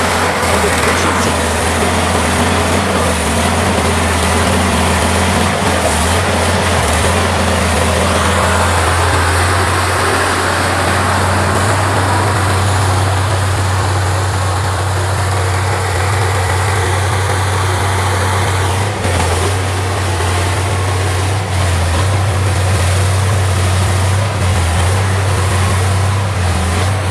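A compact farm tractor engine, sized for working 10 to 15 hectares, runs at a steady idle, its low droning hum continuous and moderately loud throughout, with no clear voices.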